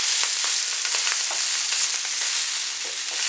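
Sausages sizzle and fry steadily in a pan over moderate heat. The crackle is close and continuous, with small pops and spatters and no talking.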